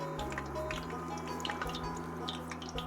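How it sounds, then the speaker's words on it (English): Hot oil pops and bubbles steadily while frying, a continuous crackling sizzle with scattered sharp pops, fairly close and alone with no talking. "Can you hear that popping and bubbling?"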